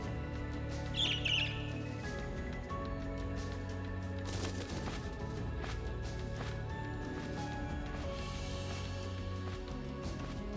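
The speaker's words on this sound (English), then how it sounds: "That bird is just downright gorgeous, though." A bird squawks in Trails of Cold Steel 2, a brief harsh call early on over steady game music and background effects.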